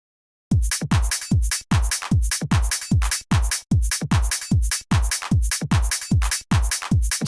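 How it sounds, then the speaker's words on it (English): Electronic drum beat with punchy booming kicks and bright snappy hits in a fast, steady, relentless pattern, loud and close, starting after half a second of silence, with no voices. "drums that sound kind of like this."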